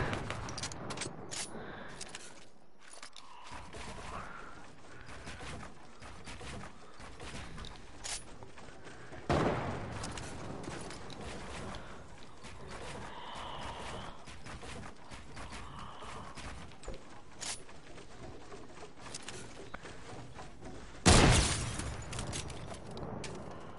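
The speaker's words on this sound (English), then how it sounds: "They're shooting me down." Scattered gunfire and booms from an online shooter video game, sporadic shots at moderate level with a couple of louder bursts, mixed with game noise and no clear talk.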